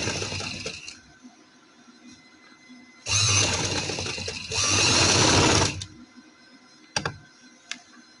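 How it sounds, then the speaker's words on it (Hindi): An electric sewing machine stitches back over an existing seam on a garment, running in two loud sustained bursts with a brief pause between them, followed by a few light clicks. "दोबारा उस सिलाई पे ही सिलाई रखनी है।"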